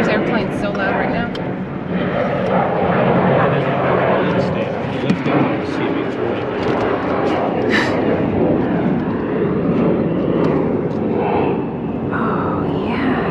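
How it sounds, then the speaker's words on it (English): Loud airplanes roaring overhead outside a HomeGoods and Ulta store, a steady broad rumble filling the whole stretch, with people talking faintly underneath. "There's airplanes so loud right now."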